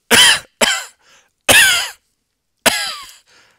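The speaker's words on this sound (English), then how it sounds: "if your subject had a coughing fit in the middle of an otherwise great interview" A coughing fit: four harsh, raspy coughs in quick bursts, close and loud, with brief pauses between them.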